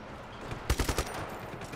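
Rapid gunfire bursts in the action game Just Cause 3, a quick cluster of four or five loud sharp shots in the middle followed by fainter popping amid game noise, with no talk.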